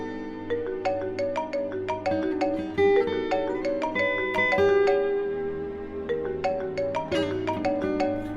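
A phone ringtone plays repeatedly as a call is placed, a bright melodic chime pattern of short tones recurring steadily for several seconds with no voices over it.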